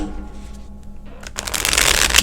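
Cards are drawn from a deck: quiet handling at first, then a brisk burst of papery riffling and sliding close by.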